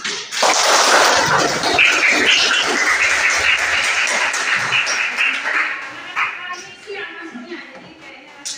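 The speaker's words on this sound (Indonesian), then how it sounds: "Oke, jadi tepuk tangan untuk kita semua." A classroom group claps together after finishing a lesson, with loud, dense applause at the start that thins and fades toward the end, mixed with some voices and room noise.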